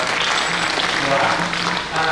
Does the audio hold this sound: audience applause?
yes